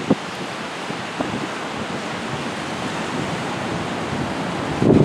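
Broadband surf and gusting wind roll steadily along a seaweed-strewn beach at Geraldton, Western Australia, a continuous wash with a louder gust near the end and no talking.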